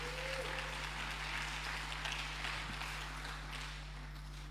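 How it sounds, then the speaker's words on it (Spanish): Congregation clapping during a church sermon, a soft, diffuse wash of applause at a distance over a steady electrical hum, fading toward the end. "Dale un aplauso al Señor, hermano."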